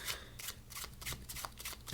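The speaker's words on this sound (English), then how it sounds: "Now you're going to do the overhand shuffle." Playing cards get an overhand shuffle, a quick run of papery riffling bursts in rapid succession, close and clear with no talking.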